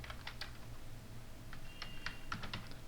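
Rapid keystrokes on a computer keyboard, a steady run of close, crisp clicks with a few louder taps near the end, heard alone without speech.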